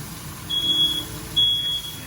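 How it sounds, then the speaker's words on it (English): Kitchen smoke alarm set off while shrimp cook: two long, piercing electronic beeps a moment apart, loud and nearby over a steady background hum, with no talk. "And my smoke alarm just went up."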